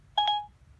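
A short pair of electronic dialing tones beeps once, clear and close, as a phone begins dialing a number, then fades to quiet room noise.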